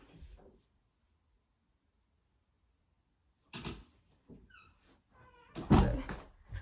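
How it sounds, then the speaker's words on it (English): An indoor door is pushed shut during a drum lesson, giving a sharp close-range bump and latch click, followed by a few quieter knocks and handling sounds in an otherwise quiet room. "Hold on, let me close the door."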